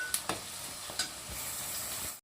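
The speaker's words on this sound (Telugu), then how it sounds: "కొంచెం అలా వేయించుకుని బ్రౌన్ కలర్ వచ్చేంత వరకు ఇలా వేయించుకోవాలి" Fish pieces frying in a pan for fish curry, with a few sharp spatula scrapes early on over a continuous close sizzle that cuts off abruptly, no talking.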